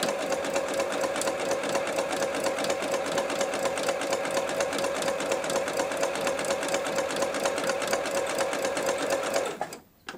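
Sewing machine running steadily on a default 2.5 mm stitch length while stitching a beginner's fabric needlebook, a continuous close, even mechanical whir that stops abruptly at the very end.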